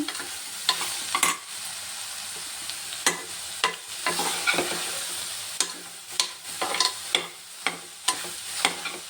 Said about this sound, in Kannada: ಸ್ವಲ್ಪ ಫ್ರೈ ಮಾಡ್ಕೊಳ್ಳೋಣ. ಸಣ್ಣ ಉರಿ ಇಟ್ಕೊಳ್ಳೋಣ.